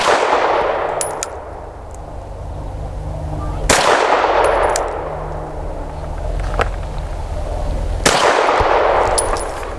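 A Sig M17 pistol fires 100 grain brass-cased ammunition with a pink polymer swell: three sharp, loud shots about four seconds apart, each ringing off into a long echoing decay, with faint metallic clinks between them.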